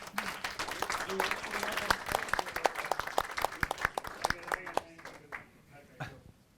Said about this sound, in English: Round of applause for Alex, please.